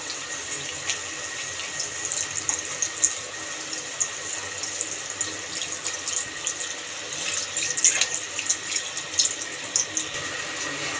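A packet of milk is poured into a chicken curry in a pan, making a steady liquid splash and trickle with bubbling throughout at moderate loudness.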